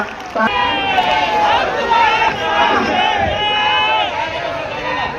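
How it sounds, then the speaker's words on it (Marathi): A large crowd at a political rally for Sujat Ambedkar cheers and shouts loudly and continuously, with applause mixed into dense, sustained crowd noise. "एकदा जोरदार टाळ्या होऊन जाऊ द्या."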